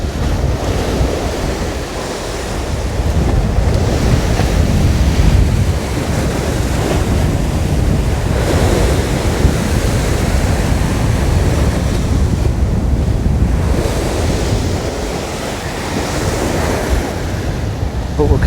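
Waves break continuously on the beach at Aberdeen Promenade as strong wind buffets the microphone, a loud, steady roar of surf and gusts with no voices.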